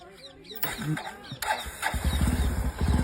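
A motorcycle engine cranks and catches, settling into a rapid, throbbing idle close by while people talk over it.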